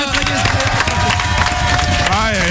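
Dense applause and crowd noise fill a radio studio, steady and loud throughout with a constant wash of claps and babble, while a voice carries over it.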